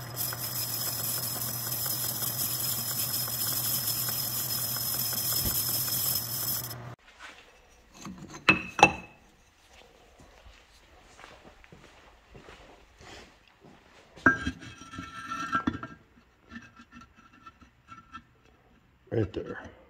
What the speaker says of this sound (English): I'm gonna chuck this up in the lathe, grab it by the input there, and I'm just gonna spin down that outside until she fits nice